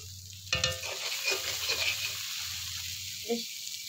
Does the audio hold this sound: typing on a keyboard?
no